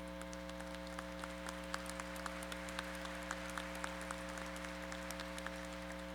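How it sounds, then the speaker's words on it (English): Applause from a high school graduation audience, continuous crowd clapping with scattered distinct claps over a constant electrical hum, moderately distant and steady for the whole stretch. "give yourself a round of applause"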